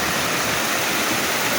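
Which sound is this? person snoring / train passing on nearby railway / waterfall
waterfall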